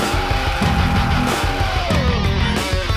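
An excerpt of a song plays as dense, loud rock. Heavy rhythmic guitars and drums chug underneath, and a gliding melodic line, likely a voice, runs over them.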